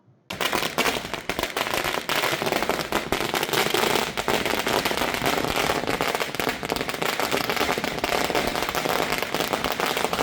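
A dense, continuous barrage of firecrackers bursting rapidly at a political party celebration, loud and unbroken for several seconds.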